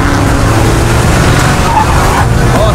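Heavy road traffic with cars crowding the street, a loud continuous wash of engine and tyre noise that fills the whole stretch.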